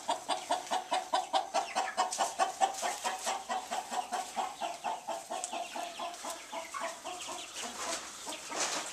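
Older hens in a barn cluck in a fast, steady stream of short calls, close and fairly quiet, with the pace loosening toward the end and no talk over them.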